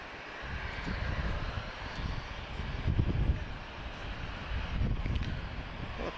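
An easyJet Airbus A320 arriving from London Luton, a faint distant jet roar swelling and easing under steady wind noise, with no voices.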